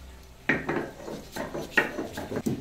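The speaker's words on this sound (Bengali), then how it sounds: "এটা এখন মাটনের মশলা বাটা চলছে।" Mutton spices being ground by hand on a traditional stone slab with a grinding stone (sil-nora), giving close scraping, rubbing strokes in a few uneven bursts with brief pauses between.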